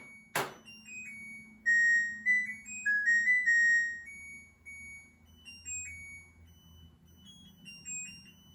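A Samsung dishwasher's end-of-cycle chime plays a melody of clear electronic tones, rising and falling across several seconds after a short thump, alone in a quiet room with a faint low hum beneath.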